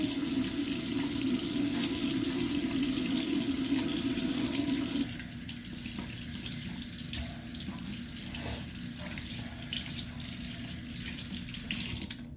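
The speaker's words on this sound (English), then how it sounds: "So I'm going to wash my hands." Tap water running into a sink while hands are washed with Citrus Medley hand soap, a steady rushing stream that drops to a softer, splashier flow partway through, with no voices.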